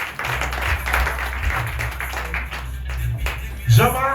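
An audience at a political campaign rally in Pointe-à-Pitre claps, giving a dense, continuous patter under a public address, with a voice speaking over it near the end.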